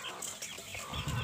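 Free-range village chickens cluck faintly in a farm setting, soft scattered calls under a noisy outdoor background.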